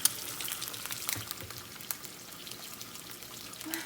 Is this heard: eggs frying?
yes